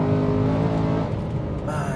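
BMW M3 saloon with a stage 2 tune, rated 449 bhp, its engine revving steadily and loud from close by, with a dense harmonic drone that shifts in pitch partway through and keeps going to the end.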